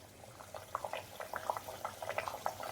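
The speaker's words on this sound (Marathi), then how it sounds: "आता आपले तेल गरम झालेले आहे आता आपण तळण्यासाठी सोडू" Besan dough strips go into hot oil for frying and give off a faint, soft bubbling crackle. Small pops come in quick irregular bursts, with no talking.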